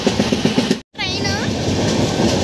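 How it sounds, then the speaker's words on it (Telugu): Passenger train hauled by a WAP-7 electric locomotive running near Nagpur on a long-distance Indian route: a steady rumbling rush with a brief dropout, heard under nearby voices. "మన ట్రైన్ని ఫుల్ చేసేది వ్యాప్ 7 లోకోమోటివ్"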